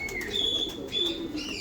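Pigeons coo and chirp faintly at a rural pigeon loft, soft low calls under a thin high whistle against steady background hiss.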